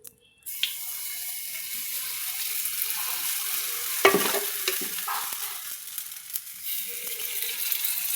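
Paddu cook in a pan on a village stove with a steady, moderate sizzle close by. A clatter is heard now and then, and one sharp knock comes about midway.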